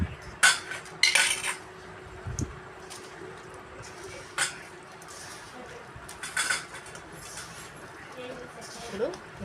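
A mango pickle is mixed with an oil mixture in a metal vessel, giving irregular clinks and scrapes of a spoon against the pot, some sharp and loud, over a low background hum.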